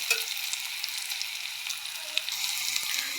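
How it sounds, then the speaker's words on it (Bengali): Rohu fish pieces sizzle in hot oil in a home kitchen pan, a steady, close crackling fry with bright spatter throughout. "এই যে ভাজা হচ্ছে"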